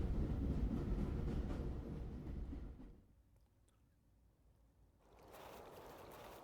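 A rattling English sheep train carriage in a spooky video game, heard as a steady low rumble and clatter that fades to near quiet midway, then returns softer as a hissing rush.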